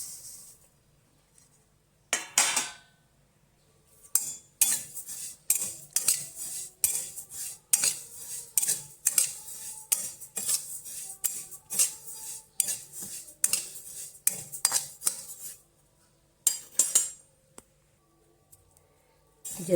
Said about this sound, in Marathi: आता कढईमध्ये हा आपला साधा जिरा आहे तो भाजून घेऊ आपण